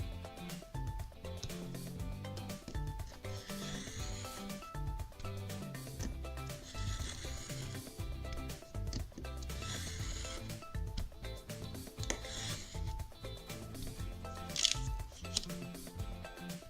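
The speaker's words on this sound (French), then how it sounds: "le reste, je pense que ce sera plus facile de le faire avec le cutter" A cutter knife slices through a paper card for a handmade gift card, giving repeated close scratchy scoring strokes and light rustling in an irregular rhythm, with faint background music, no talk.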